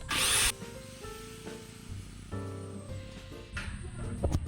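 Workers dismantling a tubular steel kitchen roof frame with tools, giving a loud grinding or cutting burst at the start, then intermittent metallic scraping, knocks and clanks with machine noise, moderately close.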